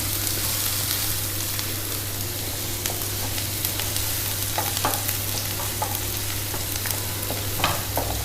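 Onions fry fast over a high flame for a restaurant-style chicken chilli, with a constant loud sizzle and scattered crackles and stirring clicks, close and without any voices.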